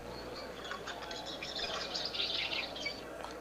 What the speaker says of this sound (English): There's a little bit of birds tweeting in there.